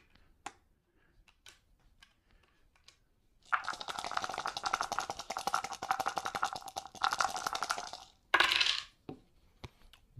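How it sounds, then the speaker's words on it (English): HeroQuest attack dice, four of them, are rolled and rattle and clatter across a hard surface for about four seconds, with a brief final burst of clicks and scattered light taps before and after, no voices. "So he will be rolling 4 attack dice."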